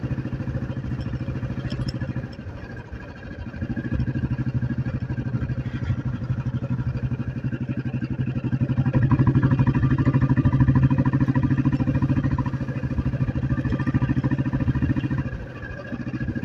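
A motorcycle cruising along a highway on a Sunday ride toward Pali Dam, its steady mid-pitched engine drone and wind rumble continuous and close, swelling slightly louder midway before easing near the end, with no talking.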